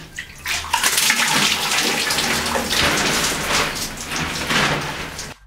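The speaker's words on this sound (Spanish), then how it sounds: "Así nos bañábamos antes para ahorrar agua." Water poured from a bucket during a bath, splashing loudly and steadily in a continuous rush for about five seconds before stopping abruptly, with no voices.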